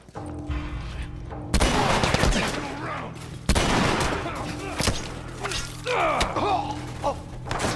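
Loud bursts of gunfire in The Last of Us Remastered, including submachine gun fire, three heavy volleys with thuds between them and a voice talking over the action.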